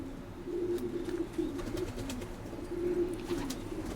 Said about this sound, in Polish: To są gołębie